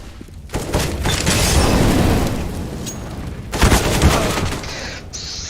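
A loud, sharp blast from a flashbang grenade in CS:GO, then a rumbling, crackling tail and a second burst a few seconds later.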